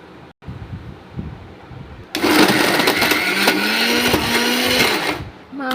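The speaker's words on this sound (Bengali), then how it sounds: "এবারে আমরা গোশগুলো মিক্সচারে ব্লেন্ড করে নেব।" Beef for a kebab being ground in a kitchen blender: a soft hum of room noise, then the motor bursts in loud and close, whirring steadily for about three seconds before cutting off.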